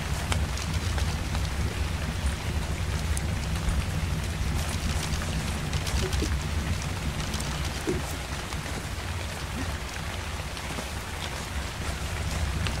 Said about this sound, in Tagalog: Ay, umuulan.